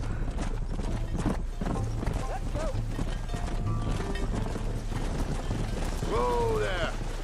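Horse hooves splashing and clopping through a river in the video game Red Dead Redemption, steady footfalls with occasional whinnies and snorts, game music and character voices underneath.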